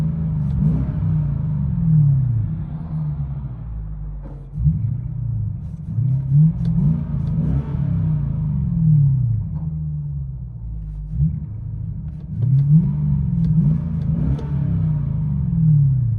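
A 2006 Lexus SC 430 with its 4.3L V8 and a muffler delete revs hard in repeated bursts, the deep exhaust rising and falling close to the microphone with no talking.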